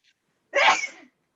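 A single sharp sneeze bursts out close and loud, brief and breathy, then fades to silence.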